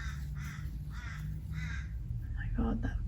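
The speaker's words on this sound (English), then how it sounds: "that crow" A crow gives three harsh caws at a steady pace, fairly loud outdoors over a low background hum, before a person's voice begins to speak.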